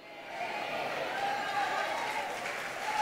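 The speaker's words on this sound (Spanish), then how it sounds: "ese aplauso es para el Señor" A church congregation applauds during a sermon, a soft, distant spread of clapping that swells after the first half second and holds steady, with a faint tone and possible voice mixed in.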